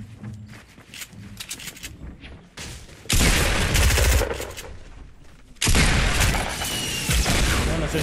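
Pump shotgun fire in the video game Fortnite: two loud, close blasts that each ring out for a couple of seconds, following quieter game sounds and footsteps.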